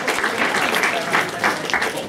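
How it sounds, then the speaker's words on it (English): A group of students claps for a guest invited to the front of a classroom, a brief, uneven round of applause with individual claps audible in bursts, close and moderately loud. "Can we give him a clap?"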